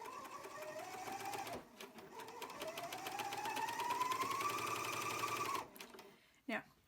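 Bernina sewing machine stitching a pillow slip, a steady rapid needle whir that rises in speed, runs continuously for several seconds, then stops, with a brief clack after.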